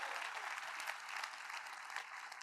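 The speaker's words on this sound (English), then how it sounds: "So clap it up for Black Card Capital Partners." A conference audience at the Fund Launch Live 2023 event applauds, giving a faint, steady wash of clapping that lasts the whole moment with no one speaking.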